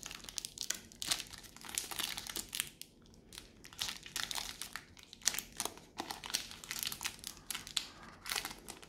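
A Pokémon booster pack's wrapper crinkles and rustles close up as cards are slid out gently, with a steady run of soft, crisp crackles.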